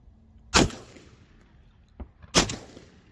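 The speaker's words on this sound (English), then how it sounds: "We're gonna shoot this one." Two loud, sharp shotgun blasts ring out during an outdoor California dove hunt, about two seconds apart, each with a short echoing tail and a fainter knock between them.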